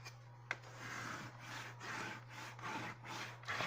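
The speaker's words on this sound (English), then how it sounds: "burnish down real good on the reverse side" Burnishing a craft piece on its reverse side, rhythmic back-and-forth rubbing strokes, close and fairly quiet, over a steady low electrical hum, with a sharp tap near the start and no talking.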